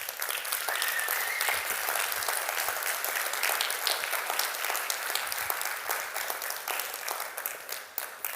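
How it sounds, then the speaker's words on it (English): An audience applauds at a panel discussion with HBCU presidents, a sustained, fairly soft roomful of clapping that holds steady for several seconds and thins slightly toward the end. "Please give them a round of applause."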